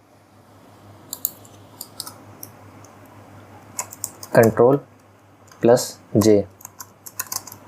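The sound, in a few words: typing on a computer keyboard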